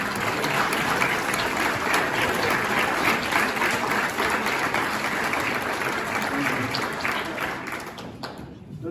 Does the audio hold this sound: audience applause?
yes